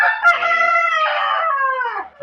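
A rooster crows loudly and close by, one long drawn-out cock-a-doodle-doo with a harsh, wavering tone that trails off at the end.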